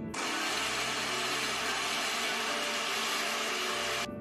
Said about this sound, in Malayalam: ഇനി നമുക്ക് നന്നായി ഒന്ന് അടിച്ചെടുക്കാം.